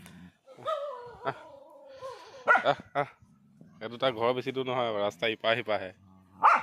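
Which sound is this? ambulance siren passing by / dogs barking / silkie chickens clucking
dogs barking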